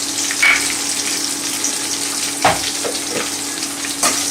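Crushed garlic sizzling in hot oil for a Tamil fish curry, a steady close frying hiss with a few brief stirring clinks and splashes.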